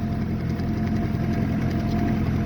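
A John Deere tractor engine runs in fourth gear, middle range, on a snowy driveway: a steady, loud low-pitched rumble with a continuous even throb, close and alone.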